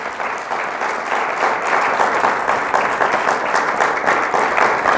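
A church congregation claps strongly and steadily, a dense sustained wash of many hands applauding together at even loudness for several seconds.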